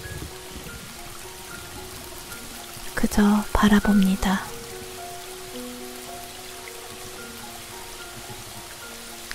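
Rain falls steadily in a forest as a soft, even hiss. A quiet whispering voice briefly speaks over it midway.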